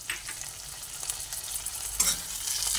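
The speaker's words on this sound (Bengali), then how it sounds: "আর একটু সময় ভাজা হবে যাতে পেঁয়াজের গন্ধটা না পড়ে" Onion, tomato and green chilli fry in oil with a soft, continuous sizzle, punctuated by a few stirring scrapes, quiet and close with no talking.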